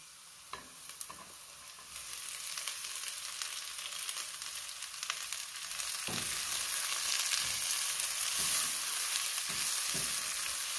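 Bell peppers go into a pan with translucent onion and start sautéing, a soft sizzle that swells louder after a few seconds, with occasional light knocks of a utensil stirring, close and quiet, with no voices.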